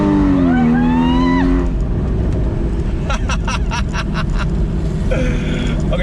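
A Porsche Boxster Spyder 981 engine revs loudly and steadily close by, with rising and falling harmonic tones and a burst of sharp rapid pulses midway, the roar continuous throughout.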